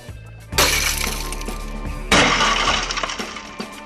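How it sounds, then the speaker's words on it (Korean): Tempered safety glass inside a bank safe's locking mechanism shatters in two loud bursts, each a sharp crash followed by a long spray of tinkling fragments, close and alone without voices. "잠금 장치 부분에 큰 충격을 받으면 강화 유리가 깨지면서 금고가 자동으로 잠기는 것이다"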